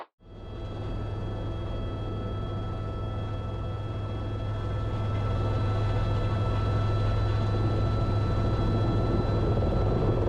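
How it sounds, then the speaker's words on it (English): Steady, loud helicopter rotor and engine drone holding constant throughout, close by, with no pauses, as the helicopter flies eastbound at low level. "Carbon County helicopter 130, we are eastbound, we'll be low level"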